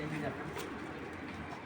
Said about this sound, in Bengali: আচ্ছা দর্শক এই দেখুন কবুতরগুলো মাশাআল্লাহ কতটা অ্যাক্টিভ।